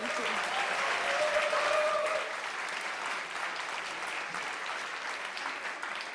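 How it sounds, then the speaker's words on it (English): Sustained applause from an audience at a startup demo day fills the room, steady and dense, with a brief whistle-like tone early on and a slight drop in intensity midway. "So again, big, warm applause for Nanodi."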